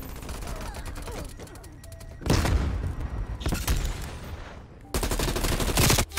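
Bursts of automatic gunfire in Call of Duty: Black Ops Cold War, including a PPSh and an XM4, crackle in rapid sustained volleys with brief gaps between them, loud and close in a busy firefight.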